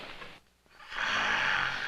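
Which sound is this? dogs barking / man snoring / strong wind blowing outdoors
man snoring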